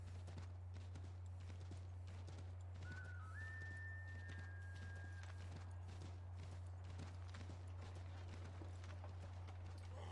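Steady hoofbeats of a horse walking in Assassin's Creed 3, clip-clopping at an even pace over a constant low hum, with a brief whistle-like tone partway through.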